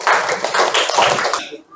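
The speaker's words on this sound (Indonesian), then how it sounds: "Tepuk tangan untuk Tias dan Nadia." Classmates clap for two students in a school classroom, a short burst of brisk, dense applause that fades out abruptly after about a second and a half.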